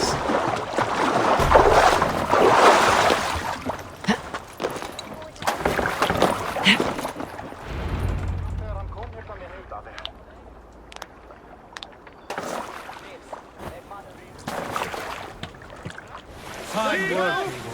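A longship is rowed across the sea in the video game Assassin's Creed Valhalla, with oar splashes and sloshing water under wind, mixed with character voices speaking.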